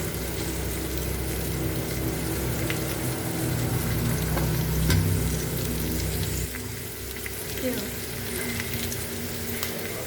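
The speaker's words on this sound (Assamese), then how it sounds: "এতিয়া আদা নহৰুখিনি দি দিছোঁ।" Ginger and garlic go into a frying pan with onions already cooking, giving a steady close sizzle with a brief louder crackle when added.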